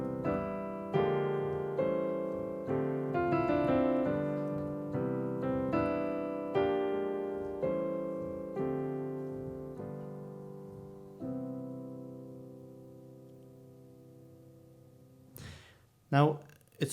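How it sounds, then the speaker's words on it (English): Piano chords in a jazz reharmonization move through a tritone substitution. About a dozen rich chords are struck one after another at a moderate pace, and the last chord rings and slowly decays before a brief breath or voice sound at the end. "Now I'm going to use a tritone substitute or a tritone substitution"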